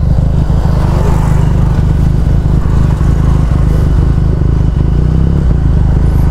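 A motorcycle is ridden along, its engine a loud, close, steady low chugging drone with faint rattles, running throughout with no voices.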